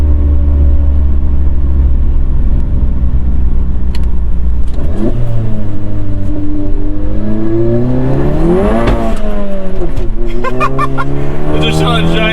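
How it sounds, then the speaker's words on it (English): Tuned VW Mk7 Golf GTI with an EQT Stage 2 tune accelerating hard on a highway, a loud close engine drone climbing in pitch through the gears with a sharp shift, heard from inside the car with voices talking over it. "When we shifted out of first to second, it literally sounded like a butane torch lighting."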